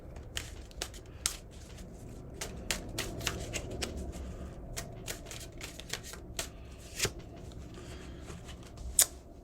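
Tarot cards are shuffled close by in a quick, uneven run of crisp riffling snaps and light papery flutters, with no talking.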